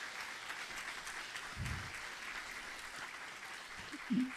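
Sustained applause from a crowd, a dense even patter of clapping heard at a moderate distance throughout.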